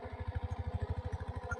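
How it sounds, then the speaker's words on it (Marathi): A tractor engine runs in a muddy paddy field, with a steady rapid low chugging pulse close by and a faint higher whine above it, and no voices. "इकडं ट्रॅक्टर चालवत त्या ट्रॅक्टर चिखल झाला."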